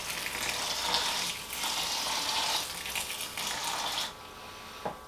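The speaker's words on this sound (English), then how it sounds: "I already have my water ready to go in a big old gallon jug" Water pours from a big gallon jug in a splashing, gushing stream that rises and falls in a few surges before stopping, close by and fairly quiet.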